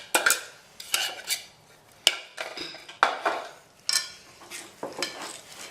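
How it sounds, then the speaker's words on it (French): Cookie dough being mixed in a bowl, heard as a series of uneven scraping and clattering strokes of the utensil against the bowl, close and fairly loud, with short pauses between bursts. "Je remélange."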